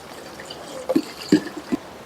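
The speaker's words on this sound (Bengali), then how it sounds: "আর একটু ঠান্ডা পানি দিয়ে আবারও আমি ভালো করে ধুয়ে নেব" Cold water is poured over boiled chicken in a strainer to rinse it, giving three short, soft splashes spaced about half a second apart against a quiet background.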